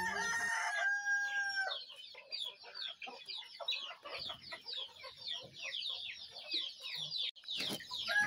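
Chickens on a poultry farm, including 25-day-old young birds let out of the coop, cluck busily and crow in a dense, fairly quiet chorus, with a louder crow at the start.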